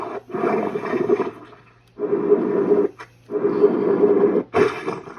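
Slime blower mode effect from a Spirit Proton Pack toy: three electronic gushing, roaring bursts, each about a second long, separated by short gaps, with a short sharper burst at the end, near and alone.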